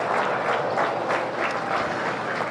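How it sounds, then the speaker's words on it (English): Audience applause for the kids after a 4-H county fair meat goat show of market wethers, a steady, dense crowd clapping that fills the whole stretch at close range. "Let's give all these kids a big round of applause."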